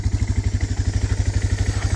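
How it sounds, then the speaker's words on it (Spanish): A motorcycle engine idles steadily up close at a campsite in Cataviña, with a low, even pulsing throb and a faint mechanical clatter running throughout. "la moto prendida"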